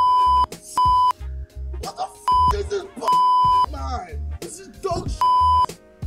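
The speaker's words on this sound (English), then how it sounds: "these beeps are going to be really loud" Loud 1 kHz censor beeps added in Premiere Pro, about five steady tones of roughly half a second each, cutting in between stretches of a person talking.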